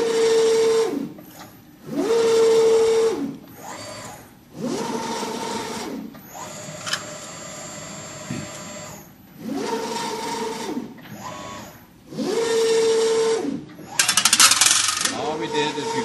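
A Nosstec machine works through an automatic cycle as its arm closes: repeated mechanical whirring bursts with rising and falling tones alternate with short pauses, and a high hiss rises near the end.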